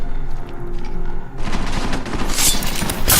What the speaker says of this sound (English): We just use the silenced pistol, which can be very deadly and very quiet.